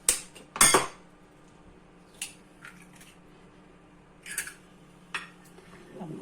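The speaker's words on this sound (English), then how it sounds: "I'm going to mix it together" A utensil clinks against a bowl while an egg is mixed into milk for a simple cheese dish: a few short, sharp metallic taps spaced out over several seconds, fairly close, with quiet gaps between them.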